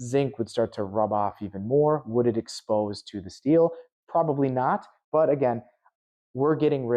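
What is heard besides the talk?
No everyday noises stand out.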